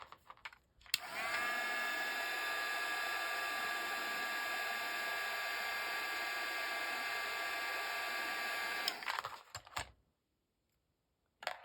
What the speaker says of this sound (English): These little heat guns come in handy for lots of things.